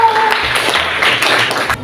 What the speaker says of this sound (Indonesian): Tepuk tangan untuk Pak Tulut